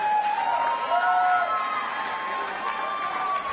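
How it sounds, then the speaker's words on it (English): A fight-night crowd applauds and cheers after a bout between two fighters, with loud shouts and whoops over a continuous roar of voices and clapping. "let's give a big round of applause for both of these gladiators"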